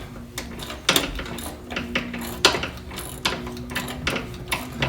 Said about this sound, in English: Now let's go ahead and fully remove this bolt here.